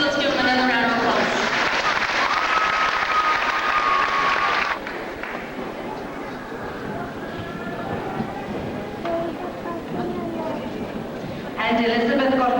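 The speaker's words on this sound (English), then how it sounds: "So please let's give them another round of applause." A crowd applauds students at a middle school graduation ceremony. Dense clapping fills the opening seconds, fades into speech and murmur, then swells again briefly at the end.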